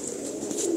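Soft, low cooing from Rampuri pigeons, a short murmuring coo close by with a faint higher chirp above it.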